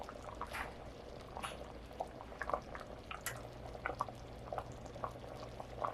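White bean soup with a bay leaf simmering in a pot, faint irregular bubbling and soft popping over a low steady hum, quiet and close without any talk.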